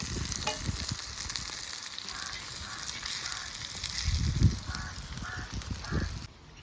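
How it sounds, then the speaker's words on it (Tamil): Fish sizzling as it fries in a pan, a steady crackling hiss with occasional louder spatters, moderately close and without talk. "இப்போ இந்த மீனையும் நாங்கள் வறுத்துட்டோம்"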